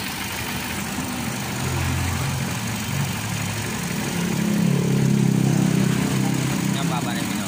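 A Motorstar 150 motorcycle engine idles with a steady low rumble while its rear wheel keeps spinning without free-wheel, the drone rising slightly in the second half, close and continuous.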